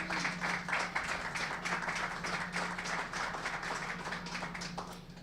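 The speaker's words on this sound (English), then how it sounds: "Nice round of applause for Patty DeRozier." An audience claps through a hall of fame ceremony for a hockey league figure, a steady patter of many hands in a hall that tapers off slightly at the close.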